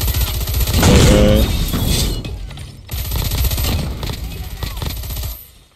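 Rapid automatic fire from an FFAR assault rifle in a shooter video game, loud and close, two long bursts separated by a brief gap before trailing off.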